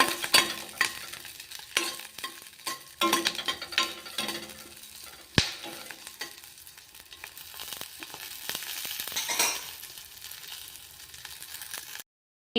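Cumin seeds roasting and being stirred in a hot pan for chutney, a steady close sizzle with scraping stir strokes and a sharp clack near the middle, stopping abruptly near the end.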